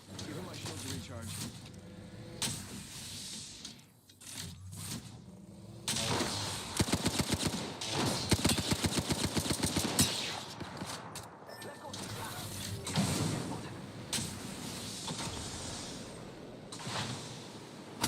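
Apex Legends gunfire comes in scattered shots, then a dense rapid automatic burst in the middle, with more intermittent shots after it. Players talk throughout over the game sounds.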